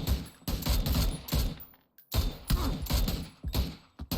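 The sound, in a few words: gunfire in video game PUBG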